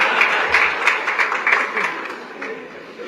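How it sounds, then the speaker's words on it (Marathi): Audience applause at an award ceremony in Nagpur, a brisk crackle of clapping that fades over a few seconds, with a voice speaking over it. "या मुद्द्यावर सगळ्या नवरे लोकांनी टाळ्या वाजवायला पाहिजे"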